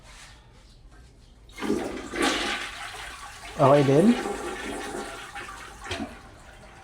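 A toilet flushes with a loud rushing gush of water that swirls and drains away, while a voice speaks briefly nearby.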